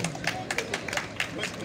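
Audience clapping at a school flag-raising ceremony in Ouakam, scattered claps rising over crowd chatter and background voices, moderately close, short burst.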